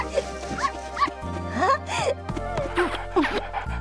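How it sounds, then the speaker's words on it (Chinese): Cartoon dog barks and yips in short bursts over background music, with whimpering cries mixed in. "小贝太脏了，不要随便亲狗狗"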